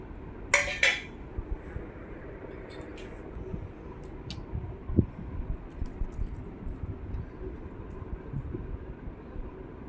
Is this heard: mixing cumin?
yes